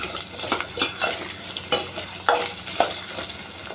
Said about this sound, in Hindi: चलाते हुए फ्राई करते रहेंगे।